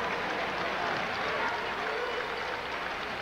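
Basketball crowd on its feet cheering and clapping as a high school semifinal game ends, a broad steady roar of applause that holds throughout at moderate distance.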